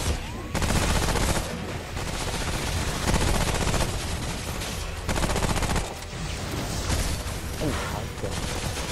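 Heavy gunfire rattles through a fight in the video game Remnant: From the Ashes, loud sustained bursts of rapid shots broken by short pauses, filling the whole stretch.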